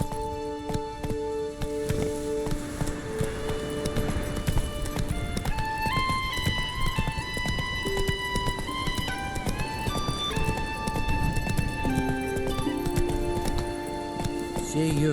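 Hooves of Geralt's horse Roach clip-clop steadily through a Witcher 3 game scene on PC, an occasional whinny mixed in, with a musical score playing throughout and a voice speaking over it.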